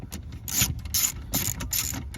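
Ratcheting and scraping tool clicks come in four short bursts as screws are backed out of the center console panel of a 2010-2012 Ford Taurus, close up and with no talking.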